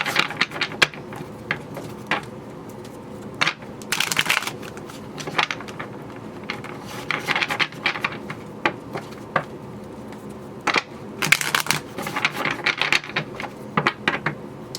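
A deck of tarot cards being shuffled in a quiet room, with bursts of soft riffling and flicking interspersed with light taps and clicks, close and moderately loud, no talking.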